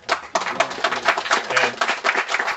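Audience applause at a Republican political event, a dense crowd clapping steadily and loudly throughout with no speech over it.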